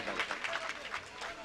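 Audience at an All India Mushaira poetry recital in Zaidpur claps in a faint, brief burst of applause, with voices mixed in.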